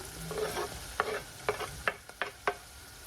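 Garlic fries in a pan and is stirred, a steady sizzle under a run of quick scraping and knocking strokes from a utensil, close and fairly loud.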